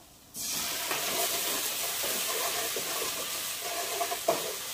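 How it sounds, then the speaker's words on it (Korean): Scallion, garlic and ginger fry in oil with a splash of rice wine for Korean-style kkanpunggi fried chicken, a steady close sizzle that starts abruptly and carries a few sharper pops near the end. "향신채, 파, 마늘, 생강을 기름에 볶은 다음에 요 향을 더 이렇게 배가시키려면 청주를 조금 넣어주면 됩니다"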